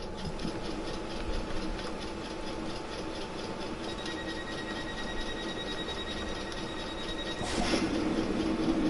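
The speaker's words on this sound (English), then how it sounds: "let's get this train moving" A train pulls away in a PS4 train simulator, a stopping service bound for Maidenhead, with a steady rail rumble, faint squealing tones and a slight swell in loudness near the end.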